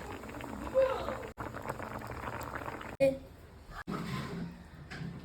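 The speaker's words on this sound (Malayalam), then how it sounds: "അവിടെ അയില മുളക് ഇട്ടത് തിളച്ച് മറിയിട്ടു" Mackerel chili curry bubbling at a rolling boil in a pot, a steady simmering hiss with brief cuts and a few sharp clinks, while people talk nearby.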